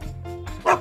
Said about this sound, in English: The dog says woof woof.